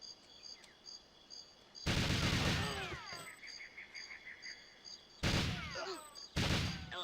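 GoldenEye 64 gunfire comes in three loud bursts of rapid shots, separated by quieter stretches of tinny game ambience and chirping effects.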